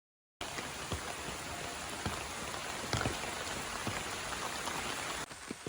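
Heavy morning rain over an areca nut plantation, a dense continuous roar of drops that starts after a brief silence and holds steady with a few sharper splashes.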